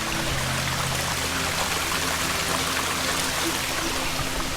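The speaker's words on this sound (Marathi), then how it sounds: "पाण्याचा आवाज येतोय का? मस्त पाण्याचा आवाज आहे." Continuous rushing of flowing water from a natural spring near Gokarna, a steady broadband wash like a small stream, with no voices.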